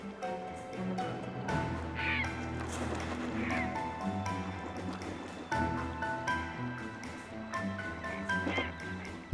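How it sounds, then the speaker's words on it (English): Herons fighting over the last fish, harsh croaking calls and squawks bursting out repeatedly over splashing and scuffling, with musical tones running beneath. "A fight has flared up over the last fish among the herons"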